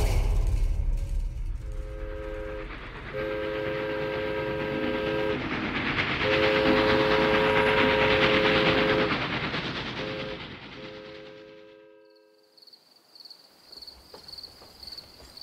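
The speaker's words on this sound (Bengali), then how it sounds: "পরদিন সকাল 8টার ট্রেনে চেপে তিনজনে রওনা দিলাম ঝাড়গ্রামের উদ্দেশ্যে।" A train rumbles along at a steady roar while its horn sounds in several long tonal blasts, then the noise fades away into quieter surroundings with a faint high whine.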